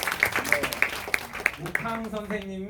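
An audience gives a round of applause for teacher Lee Eun-young, a string of sharp, evenly spaced claps that ends about two seconds in, followed by a voice speaking.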